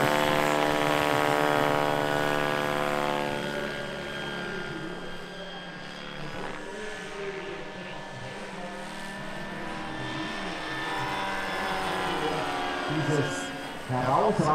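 Large XXL radio-controlled Vario Bo 105 model helicopter flying aerobatics at an event, a loud steady rotor and turbine whine that swells and fades as it maneuvers, with someone speaking over it.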